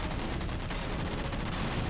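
Sustained automatic gunfire in Halo 4, shooting down jammers, a dense continuous rattle of rapid shots filling the whole stretch with no talk.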